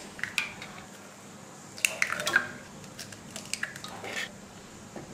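Metal bowl set into a kadai holding water for egg cooking, a few light clinks and knocks with small splashy contact sounds, close and fairly soft.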